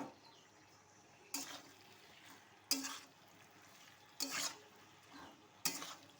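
Potatoes fry quietly in a pan with chilli and salt while a spoon stirs them, with four or five short louder scraping bursts spaced over a soft, steady sizzle.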